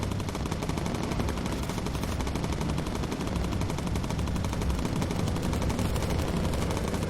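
Bomber gunners fire from a World War II bomber in the Bomber Crew game, a dense, continuous rattle of machine-gun bursts that runs loud and unbroken throughout.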